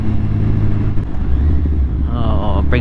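A Kawasaki Z1000R with a de-catted Black Widow exhaust rides on a road behind a horse box. It gives a loud, steady low rumble throughout, and a brief higher whine rises near the end.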